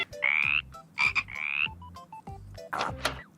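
A voice imitates a frog with a series of croaks, some raspy and buzzing, some short and clicky, in an irregular rhythm. The croaks are close and fairly loud.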